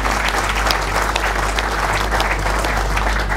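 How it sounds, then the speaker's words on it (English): Steady, dense applause from an audience fills the whole stretch, loud and continuous with no talking. "I think we'll just do one more round of applause"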